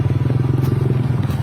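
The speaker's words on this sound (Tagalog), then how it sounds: "Ayan ang motor." A motorcycle engine runs close by on the road, a loud, steady, rapidly pulsing putter that lasts the whole short moment.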